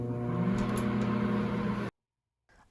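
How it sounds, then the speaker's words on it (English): A microwave oven hums steadily while cooking a cheesecake, a close, low drone lasting under two seconds before cutting off into silence, followed by a short beep. "all we have to do now is pop it in the microwave"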